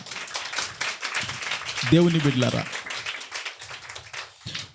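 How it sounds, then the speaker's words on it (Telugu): A church congregation claps in quick, scattered bursts while a preacher's voice speaks over the clapping. "చప్పట్లు కొడదుము గాక"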